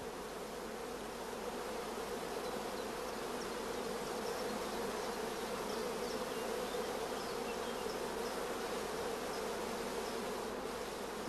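Honey bees crowd thickly around queen cells on a rearing frame, giving a dense, continuous buzzing hum that stays steady and close for the whole stretch, with no voices.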